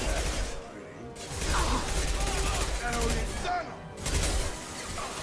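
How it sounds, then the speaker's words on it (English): Rapid machine-gun fire from Mass Effect 2 rattles in sustained bursts with brief pauses between them. It stays loud and close under excited talking. "It's like a machine gun."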